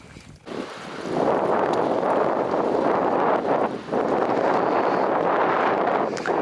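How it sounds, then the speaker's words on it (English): Wind blows off glacier ice at the Canwell Glacier terminal moraine, a loud, steady rushing roar that buffets the microphone, with brief dips in strength and no talk. "it should get colder as the wind's blowing directly off the ice"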